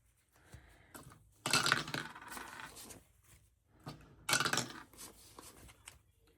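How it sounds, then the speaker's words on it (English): A six-sided die rolled on a hard surface during a cash-stuffing savings game gives two sharp clattering bursts a few seconds apart, each followed by a short fading rattle. "we're gonna roll our 6-sided die"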